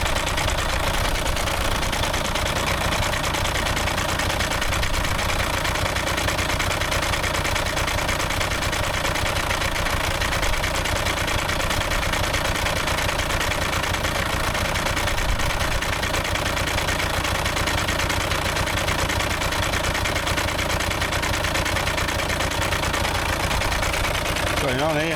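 A VW Golf engine idles with a rattly, knocking note, a steady, unbroken close drone that stays at the same level throughout.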